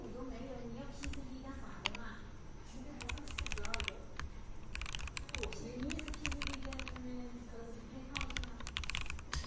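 Typing on mechanical keyboard switches rattles in quick bursts of clicky keystrokes throughout, while people talk over it.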